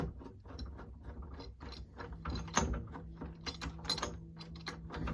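A screwdriver tightens the through-bolts of a Kwikset deadbolt on a door, making quiet, close ratcheting clicks and grinding turns in a steady irregular series.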